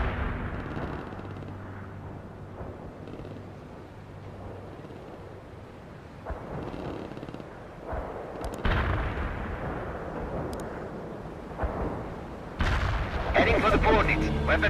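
Artillery and gunfire in the World in Conflict strategy game, with rumbling booms and scattered blasts building through the battle under radio-style voice chatter.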